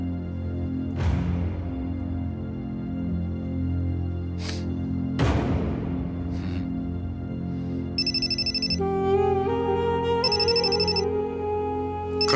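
A phone rings with repeated electronic ringtone bursts under a continuous low hum and occasional soft thuds, all fairly quiet and indoors.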